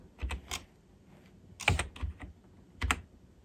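A few separate keystrokes on a computer keyboard, sharp and close, spaced out irregularly with pauses between them, no voices.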